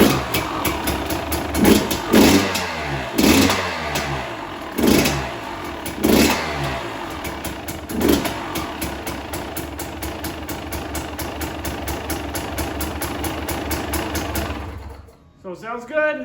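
A 2020 KTM 300 motorcycle engine barks through several sharp revs, then settles into a loud, steady, rattling idle before cutting off near the end.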